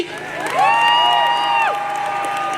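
A rally crowd cheers, with high sustained voiced whoops rising and falling over a steady murmur, loud for a moment and then fading.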